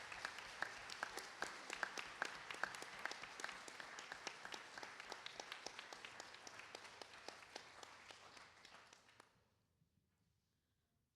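Applause at a Model United Nations opening ceremony as the committee chairs rise, dense crowd clapping with crisp repeated claps, steady and fairly even before fading out into near silence at the end.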